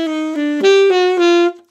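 A jazz diminished lick played as a complete descending-then-rising run of a few sustained notes on a single melodic instrument, clear and close, lasting under two seconds.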